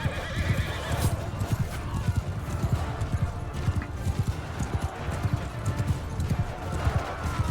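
Many horses gallop in a thundering rush of hoofbeats, with neighs and whinnies rising over the rumbling charge of a cavalry charge in the video game Realm of Thrones.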